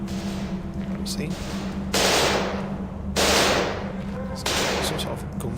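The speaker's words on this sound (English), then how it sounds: "Some sort of gunfire, automatic gunfire." Three bursts of rapid automatic gunfire in a survival video game, each lasting about a second, sound over a low continuous hum.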